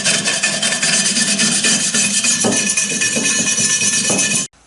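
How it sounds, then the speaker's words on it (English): A wire brush scrubbing surface rust off the cast body of a Stanley hand plane, a loud continuous rasping scrape in quick back-and-forth strokes, close up, cutting off abruptly near the end. "Just taking a wire brush and just see if I can scrape off as much as possible on all the"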